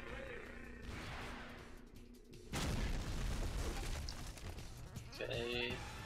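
Rocket explosion in the video game XIII: a sudden loud boom bursts over a droning background and rumbles on with a long, noisy tail, followed by a short tonal sound near the end.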